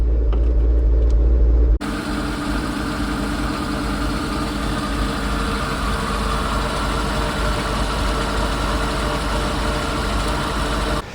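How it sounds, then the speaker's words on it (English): A boat's port engine idles on water muffs, a steady, continuous low rumble that holds an even level throughout after a brief louder start. "Okay, so the port engine runs."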